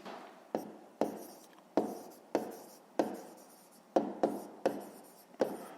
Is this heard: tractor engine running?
no